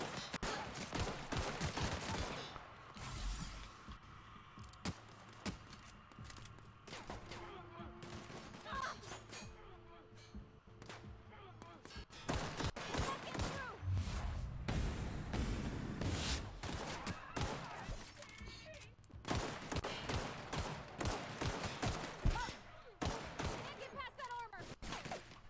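Rapid, dense gunfire in The Outer Worlds video game, with bursts and volleys crowding most of the stretch and someone talking over the shooting.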